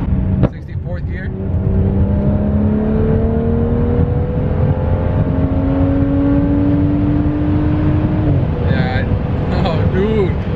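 A BMW F10 535i running E85 fuel accelerates hard through its gears, the engine droning and rising in pitch over several long pulls, with a brief shift before the climb resumes, heard steadily from inside the car.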